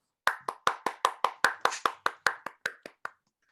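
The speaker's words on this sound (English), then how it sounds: "So please give a warm round of applause for our final performer tonight." About fifteen distinct hand claps in a quick, even rhythm, close and crisp, ending abruptly after three seconds; sparse clapping for a performer at a refugee week writing showcase, with no voices.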